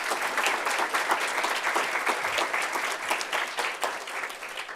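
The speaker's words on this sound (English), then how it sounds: "another round of applause for you all" A room full of people at a student government inauguration ceremony claps steadily and densely for several seconds, a sustained wash of applause with no voices over it.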